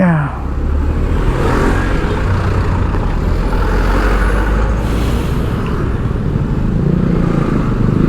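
Dense traffic jam on a road in Sukabumi, with motorcycles and cars idling and creeping along, producing a loud, continuous engine drone and rumble close by, with no clear voices.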